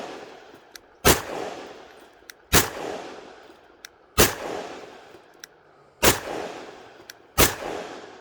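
Five sharp, loud gunshots from a custom Sig P320 pistol chambered in .357 SIG, fired one-handed at an outdoor range at uneven intervals, each crack followed by a brief decaying echo, with faint clicks between shots.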